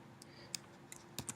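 Keys tap on a computer keyboard while a formula is typed into a Mac Excel spreadsheet, making a few faint, irregular clicks spread over a second or so against quiet room noise.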